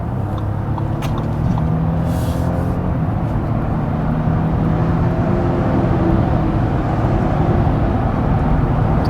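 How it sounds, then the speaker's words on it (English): Audi Q7 60 TFSI e quattro plug-in hybrid accelerating hard from about 80 to 160 km/h, a steady loud engine and road drone rising smoothly from inside the cabin with no talking. "Now let's accelerate it out."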